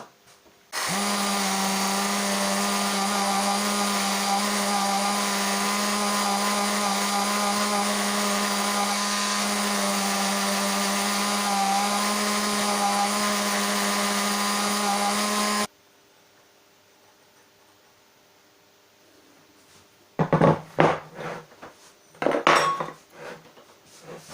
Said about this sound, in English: I'll take the sander to that now and flatten that off